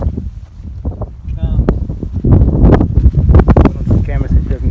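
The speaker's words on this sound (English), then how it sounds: "That was a big gust of wind." A strong gust of wind roars across the microphone in the Australian outback, building in the second half, with a person speaking briefly over it.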